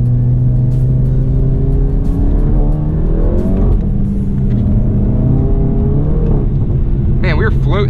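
An APR Stage 2 tuned MK7 Volkswagen GTI accelerating hard to overtake on a wet road, a loud close engine rumble rising in pitch under a constant drone, with someone talking over it.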